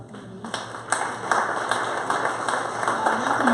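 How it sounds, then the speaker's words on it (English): An audience applauds at a 2018 county candidate forum: a steady, moderately loud round of clapping from a modest crowd that carries on for several seconds with no voices over it. "Can you just give yourselves a round of applause for doing that for our community?"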